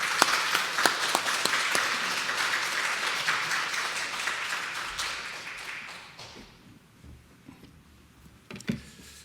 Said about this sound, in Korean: 우리 큰 은혜를 사모하는 마음 가지고 박수로 환영하도록 하겠습니다.